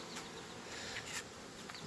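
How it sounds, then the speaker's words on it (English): Honeybees of a Russian strain buzzing steadily around a hive in an outdoor apiary, a continuous moderate drone with no voices. "underneath the number 18 there I saw some bees balling another bee"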